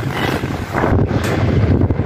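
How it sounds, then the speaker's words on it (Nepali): Strong wind gusts loudly and steadily, blowing dust and sand, buffeting the microphone with a roaring rush. "यस्तो हावा चलाएको छ नि आज"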